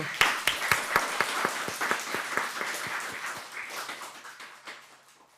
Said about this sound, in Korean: 더 크게 박수